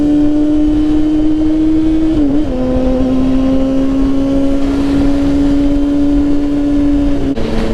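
A Yamaha R1 motorcycle is ridden at a steady, loud engine note that holds a sustained drone, dipping briefly with a gear change and then holding again.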